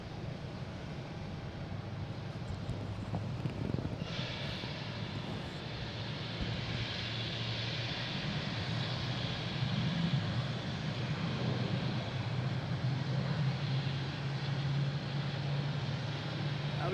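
Alaska Airlines airliner in oneworld special livery taxiing at Boston Logan, a steady far-off jet engine drone with a rising whine partway through, heard through continuous outdoor ambience.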